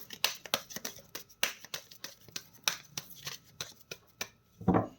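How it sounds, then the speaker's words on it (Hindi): Rapid riffling and flicking of tarot or oracle cards being shuffled by hand, a close run of crisp papery snaps in irregular bursts, ending in a softer thud. "This is my last shuffle."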